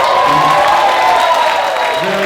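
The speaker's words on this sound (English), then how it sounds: "If we could give her a round of applause" Audience applause for a guest in the crowd at Gotham Comedy Club, a steady wash of clapping from a packed room with a few voices rising over it for about two seconds.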